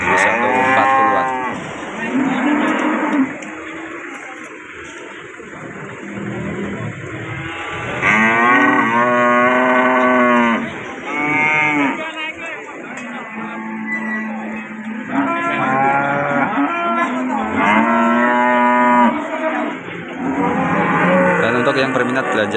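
Cattle low and moo repeatedly at a livestock market in Pare, Kediri, East Java, overlapping loud calls from several animals close by over a steady crowd hum.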